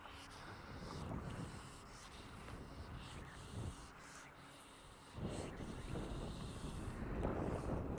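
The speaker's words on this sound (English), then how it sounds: "Headwind is getting to be a problem" Headwind buffeting a microphone while fly fishing, a low, uneven rumble that swells and fades in gusts, loudest near the end.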